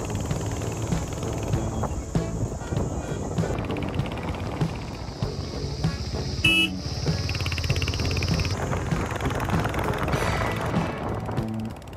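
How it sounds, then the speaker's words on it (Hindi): A motorcycle carrying a rider and a passenger cruises on a mountain road from Gangotri toward New Tehri in Uttarakhand. The engine drones steadily throughout, mixed with wind rush, with a few faint higher tones from passing traffic. "और बाइक में अभी राइड कर रहा हूँ"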